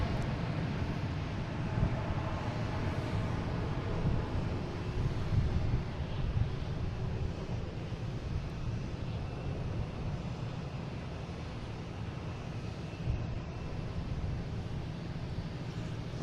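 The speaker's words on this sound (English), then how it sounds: "we got JetBlue taking off to Orlando, an A320, flight 551." JetBlue Airbus A320 taking off from Boston Logan, a distant low engine rumble with wind buffeting the microphone, steady and moderately loud throughout.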